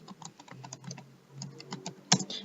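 An option is typed on a computer keyboard, giving a quick run of close, crisp keystrokes that end in one louder final tap.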